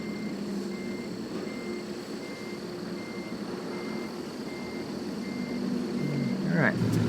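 Truck reversing alarm from American Truck Simulator, a steady evenly spaced beep repeating over a low diesel engine rumble, with a brief rising tone near the end.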